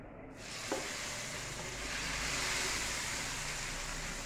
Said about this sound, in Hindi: चले अब इसका तड़का देखना खैर हो।